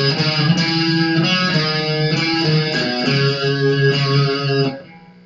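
Electric guitar plays the riff from a song, a run of single picked notes on the low strings, clear, close and steady for about five seconds before ringing off.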